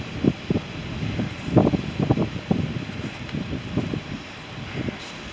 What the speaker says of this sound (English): This wind is horrific.